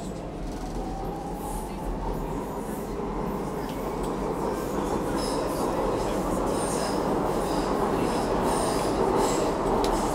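A London passenger train rumbles along steadily with rising mechanical whine, wheels clattering on the rails as it gains speed.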